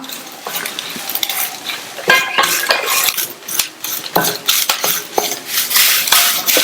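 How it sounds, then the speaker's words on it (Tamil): Handful of curry leaves dry-roasted over medium heat in a pan for idli podi, a spoon scraping and stirring with close metallic clinks and scratches, crackling rising as the leaves crisp, no talk. "இதையும் மிதமான தீயில வச்சு நல்லா மொறு மொறுன்னு வர வரையும் வறுத்துக்கலாம்"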